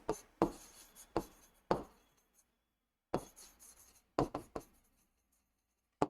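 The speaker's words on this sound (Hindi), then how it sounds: "यही लिख लेते हैं।" Pen or chalk writing out lecture notes on a board, a series of sharp taps and scratchy strokes in bursts with quiet pauses between, fairly close and alone.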